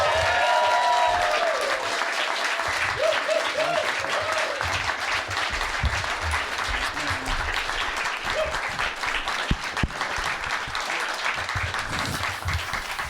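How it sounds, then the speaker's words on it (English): A large audience gives sustained, loud applause to welcome the comedy group Aunty Donna to the stage, a steady roar of clapping with faint whoops and cheers mixed in. "Please welcome to the stage with enormous applause"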